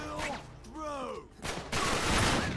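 Enemy gunfire in the Uncharted 3 video game, aimed at the player: short bursts and sharp shots that come and go over a couple of seconds, mixed with game voices.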